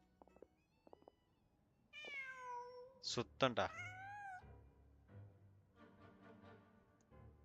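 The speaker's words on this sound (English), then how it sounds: "Just a cat." A cat in Genshin Impact gives a long, clear meow and then a couple of sharper meows, with a quiet voice speaking before and after the calls.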